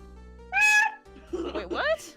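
A person imitates a cat with two drawn-out meows, the second wavering longer, voiced up close over a faint steady background hum.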